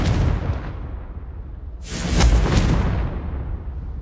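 A fire spell explosion in the Hogwarts Legacy video game, a single loud whooshing blast with a rumbling low boom midway, fading out over a couple of seconds.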